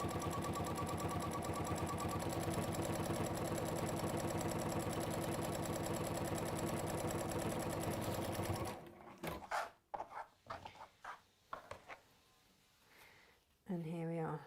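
Sewing machine stitching a string of rainbow fabric bunting, a steady close rapid mechanical whir running continuously for most of the stretch before stopping, followed by quiet handling clicks and a few soft vocal sounds.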